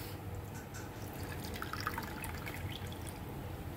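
Water poured from a measuring cup into a pan on a gas stove for sugar syrup for gulab jamun, a soft, continuous trickle and splash, faint and close, with no voices.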